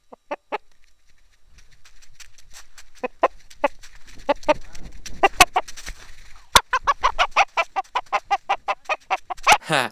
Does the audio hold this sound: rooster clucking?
yes